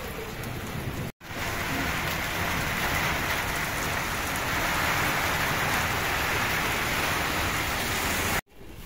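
Heavy rain pours down outside in a village, a dense, steady hiss of drops on surfaces that fills the whole stretch, with two brief cuts and no voices.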